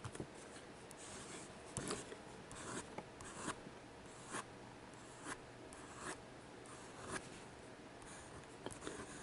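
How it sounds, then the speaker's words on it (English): Lamy Joy fountain pen with a dipped nib writing on paper, making close, quiet scratchy strokes in an irregular rhythm of short bursts and pauses, heard alone without talking. "I like the nib, how smooth this pen writes."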